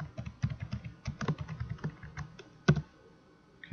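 Someone types on a computer keyboard in quick, uneven bursts of close key clicks, ending with one sharper, harder keystroke.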